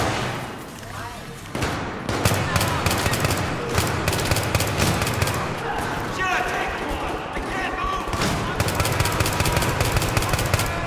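Battlefield 3 multiplayer gunfire: loud rapid bursts of automatic weapon fire and sharp shots crackle almost continuously, with people talking excitedly over the top.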